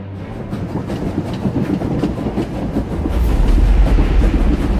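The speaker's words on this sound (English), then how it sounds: "The train is on the move, and the traitor's on board." A train rolls along steadily in a Star Wars video game, an Umbaran supply train headed for the capital, its continuous rumbling clatter swelling louder and heavier toward the end.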